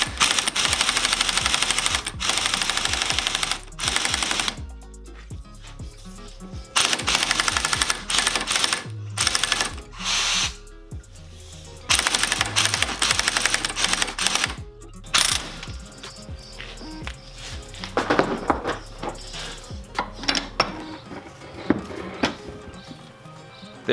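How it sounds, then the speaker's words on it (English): A pneumatic impact gun drives down a front U-joint cap on a Toyota Tacoma, loud rapid hammering bursts repeating in long stretches with brief pauses between them. "Now I'm going to be using this impact gun to drive this down."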